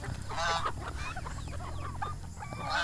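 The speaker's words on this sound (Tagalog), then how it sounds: "Nandito yung pabo, yung mga manok, nandito yung gadsa, nandito yung itik." Noisy farmyard fowl: turkeys, geese, ducks and chickens honking, gobbling and clucking in a busy overlapping chorus, close and continuous.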